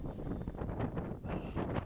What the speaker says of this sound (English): Yo, it's so windy.